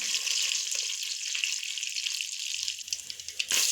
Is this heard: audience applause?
no